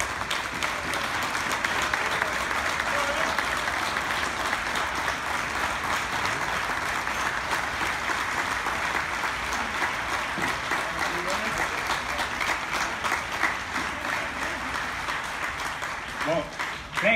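An audience at a fair's 2021 opening ceremony gives a long, steady round of applause for an honoree receiving a plaque, an even wash of many clapping hands with voices mixed in throughout.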